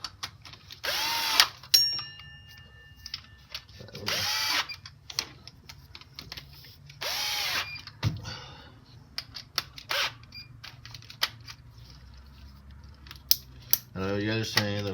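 Cordless 12 volt impact gun on a Dodge Dakota 3.7 water pump bolts, several short loud bursts of whirring and hammering separated by quiet gaps, with clicks and tool handling in between.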